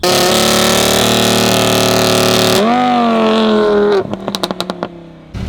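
A Lamborghini Huracan's engine revs hard while the car sits in park, a loud sustained roar that climbs and holds in pitch, then drops into a series of short sharp blips and throttle pops.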